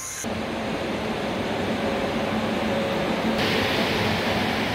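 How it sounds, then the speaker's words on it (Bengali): A passenger train, the Avadh Assam Express, pulls into a station at night, heard as a loud, steady, broad rumbling roar that fills the whole clip without a break. No voices are heard. "ট্রেন চলে এসছে"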